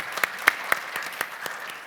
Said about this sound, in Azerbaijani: O sualı Nicat bəyə alqışlayırıq və səhnəyə dəvət edirik.